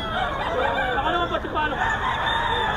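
Roosters and chickens at a busy poultry market, a dense crowd of crowing and clucking birds going on steadily, close and loud throughout, with faint voices mixed into the din.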